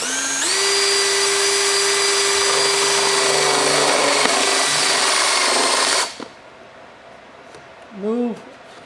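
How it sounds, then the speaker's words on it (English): A cordless drill whines loudly at a steady high pitch for several seconds while drilling into the bottom of a pipe, then stops abruptly, followed by quiet and a brief voice. "We take our cordless drill,"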